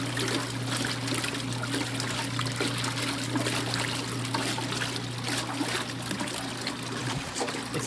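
Water splashes and trickles steadily inside a vintage machine being unwinterized for the season, a continuous close wash of running liquid over a low steady hum.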